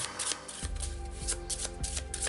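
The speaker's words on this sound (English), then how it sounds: "We're going to give this guy a shuffle." A deck of board game cards is riffled and shuffled by hand, a rapid string of crisp flutters and soft taps repeating several times, close and alone.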